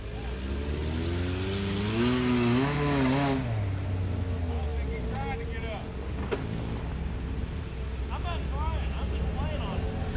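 A four-wheeler engine revving hard at full throttle on an off-road run, loud and close, with pitch rising then settling into a steady high drone.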